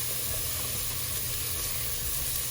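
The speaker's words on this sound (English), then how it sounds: "So I'm going to let these cook and saute together." Corn and onions sauté together in a pan for a Cajun crawfish enchilada filling, giving off a steady, even sizzle that continues unbroken at close range.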